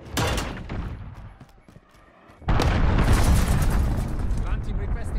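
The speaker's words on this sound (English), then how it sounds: "Enemy cruise missile inbound." A cruise missile strike in Call of Duty Modern Warfare, multiplayer team deathmatch on Hackney Yard: a loud close blast erupts after an earlier burst and short lull, then a sustained rumbling roar with debris-like crackle.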